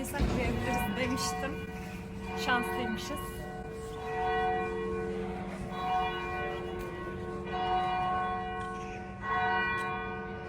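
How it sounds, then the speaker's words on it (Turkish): A church tower bell at the University of Glasgow rings repeatedly with long, overlapping resonant tones, heard under steady background chatter. "Ara sıra çan çalıyor."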